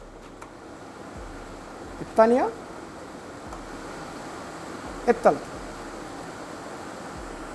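An electric air cooler set to its third speed gives a steady, faint, even rush of air throughout, while a voice briefly counts the settings twice over it.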